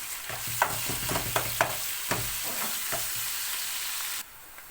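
Halved garlic cloves and peppers frying in a pan for a Turkish green bean sauté, a steady close sizzle broken by several sharp clicks of a utensil stirring, then cutting off abruptly into quiet.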